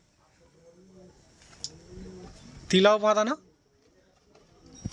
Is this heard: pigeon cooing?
yes